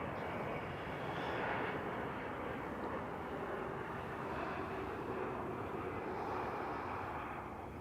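Jet airliners at Toronto Pearson airport produce a steady broad roar of engines, continuous and moderately distant, with no talking.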